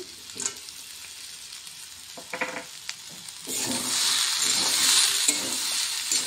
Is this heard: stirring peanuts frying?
yes